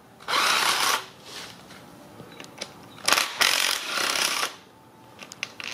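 Impact wrench taking out the five 12 mm water pump bolts on a Jeep 2.4 engine, heard as several loud, close bursts of rattling power-tool noise with short pauses between them and no talking.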